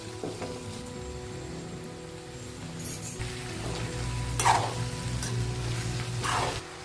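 Moong dal and chopped spring onion greens sizzle steadily in a hot pan with green chilli, a soft continuous crackle with a few sharper hisses and spatters as ingredients are stirred in.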